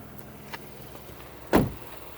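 Car door on a 2023 Mazda CX-50 opening with a single sharp latch clunk mid-clip, preceded by a couple of faint clicks against quiet cabin background.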